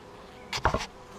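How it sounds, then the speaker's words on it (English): A brief burst of bee buzzing around a swarm swells up for a moment, a couple of close passes humming by, then fades back to quiet. "These bees might get you."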